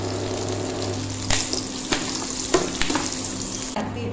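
Chopped ginger and green chillies sizzle in hot oil for an egg curry, a steady close frying hiss with a few sharp crackles and stirring knocks.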